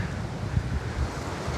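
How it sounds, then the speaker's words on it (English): Strong wind outdoors buffeting a microphone in a yard, producing heavy low rumbling gusts that swell and drop throughout, with no voices. "it is very windy out here today"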